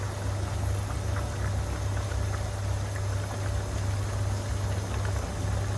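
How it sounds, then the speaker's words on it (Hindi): Eggs boiling in a pot alongside chicken, a steady low rumbling bubble with a constant hiss, continuous and close, with no speech. "ये हमारे अंडे भी साथ साथ बॉयल हो रहे हैं"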